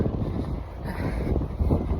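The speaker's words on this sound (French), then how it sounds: "J'espère que vous allez m'entendre avec le vent." Wind buffets a microphone outdoors, a steady low rumbling roar that swells and gusts throughout without a pause.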